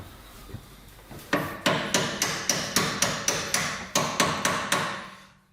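A Snap-on hammer strikes metal during the install of a Gen 4 3SGTE engine into an AW11 MR2. About a dozen sharp, evenly spaced blows ring out close by in a steady rhythm, with no talking.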